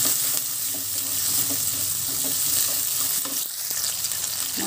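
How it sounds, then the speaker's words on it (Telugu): Fresh green peas fry in a pan for upma with curry leaves added, a steady sizzle running throughout alongside repeated scraping and stirring of a spatula, close up and with no talking. "కొద్దిగా బటాని వేగితే సరిపోతుందండి"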